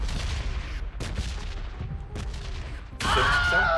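Heavy barrage of explosions and gunfire from a red zone bombardment in PUBG Mobile, dense rumbling booms rolling continuously, swelling louder near the end.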